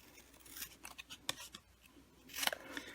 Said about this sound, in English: And then we also need to cut out the 2 little tags.